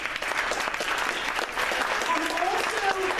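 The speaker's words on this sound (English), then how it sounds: "Let's give them a round of applause." Crowd applause at a community festival introduction honoring a new park and recreation director, continuous even clapping from a roomful of people with faint voices mixed in.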